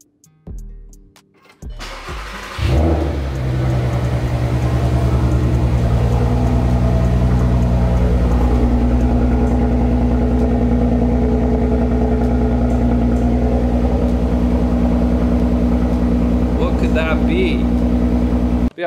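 A BMW 435 engine cranks and fires up, then settles into a loud, deep, steady exhaust rumble that holds up close for the rest of the clip.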